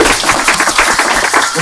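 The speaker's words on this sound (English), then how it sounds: "clap it up for y'all" Audience clapping at a grand opening event, a dense, steady patter of many hands close by for the whole moment, with a bit of talk mixed in.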